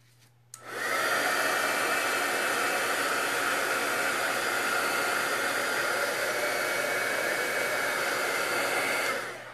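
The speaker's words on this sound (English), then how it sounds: "I'm gonna go ahead and dry it with the heat tool again." A heat tool blasts a steady, loud whoosh of hot air for about nine seconds while drying ink on a card, starting abruptly after a brief quiet moment and cutting off at the end.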